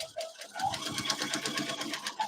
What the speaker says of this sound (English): I'm going to sew on all the dotted lines